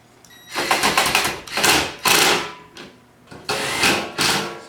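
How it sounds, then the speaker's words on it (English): A power driver runs screws into a homemade sand muller machine in loud, close whirring bursts, with four or five separate runs, each lasting under a second, and short pauses between them. "these screws are going to go in here"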